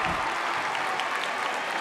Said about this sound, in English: Crowd getting hyped